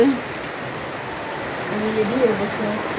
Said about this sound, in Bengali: কিন্তু এখন বৃষ্টি পড়তেছে।